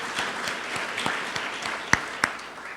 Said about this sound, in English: Let's give Senator a round of applause.